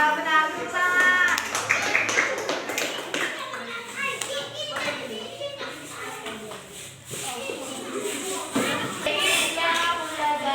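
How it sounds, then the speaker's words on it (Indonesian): Children in an elementary school classroom clap their hands, rapid crisp claps arriving in bursts throughout, mixed with kids' chatter, an adult voice and some shuffling. "Ya benar, tepuk tangan."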